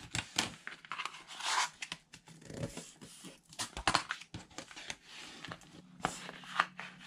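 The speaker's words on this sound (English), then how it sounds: "I'll go ahead and just fold over my paper and wrap this chipboard" Paper being folded and wrapped around a chipboard booklet cover makes close, irregular crinkling and rustling with brief sharp creases and soft handling noises, no voices.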